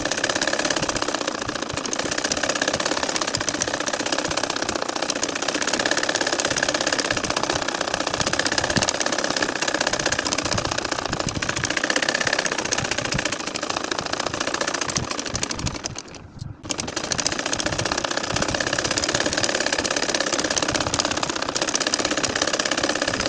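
A sewing machine stitches a continuous line on a nakshi kantha quilt, humming loud and steady for over twenty seconds with one brief pause near the end before resuming.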